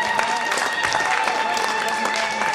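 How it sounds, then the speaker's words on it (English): Crowd applause at a lively party celebrating the hemp crew, a steady dense wash of clapping and cheering that fills the whole moment, with voices mixed into the noise. "let's give a rousing round of applause for the High Times Hemp Crew"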